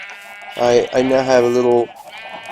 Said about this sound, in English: I've got some black, some gray, some light gray, and white sheep in there